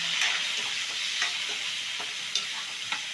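Onions fry in oil with garlic, ginger and green chillies, a steady close sizzle broken by occasional light scrapes and taps of a stirring spoon, with no talking.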